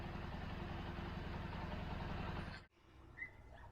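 A Bajaj Boxer motorcycle engine, newly rebuilt, idles with a steady low rumble, then cuts off abruptly, leaving faint background sounds.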